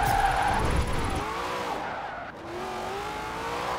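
A Ford Mustang drift car in Forza Horizon 4, run through a drift zone in third gear, with sustained wavering tire squeals over a close engine note and no talk.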